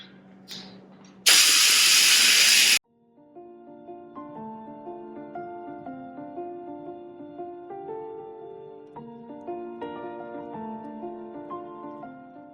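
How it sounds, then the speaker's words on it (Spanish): A food processor grinding peanuts into peanut butter starts with a loud, harsh whirring burst that stops abruptly after about a second and a half, followed by soft background music. "Vamos a iniciar procesando nuestros cacahuates."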